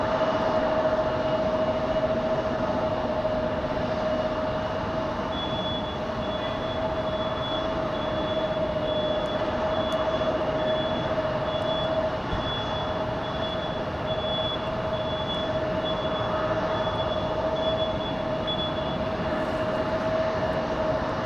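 An Icelandair jet pushing back at Raleigh-Durham International Airport at night: a steady, distant turbine whine with sustained high tones, continuous and even for the whole stretch, with no voices.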